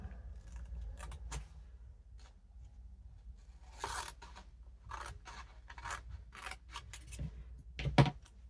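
Pinking shears snip through paper and glassine while trimming pages for a vintage Christmas junk journal, giving a series of short, crisp cuts and rustles close by, with brief handling noises between the snips.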